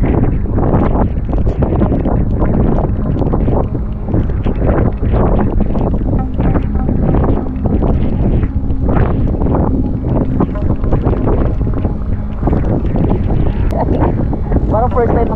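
Strong wind during a storm buffets a boat being set up with a tarpaulin for fishing, a constant loud roar with flapping gusts and rustling throughout, while someone speaks over it.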